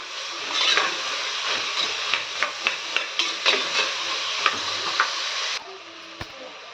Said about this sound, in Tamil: 2 தக்காளி இதிலே போட்டு வதக்கலாங்க. சும்மா 2 வதக்கு வதக்கினா போதுங்க. நல்லா கலந்து விட்டுக்கலாம்.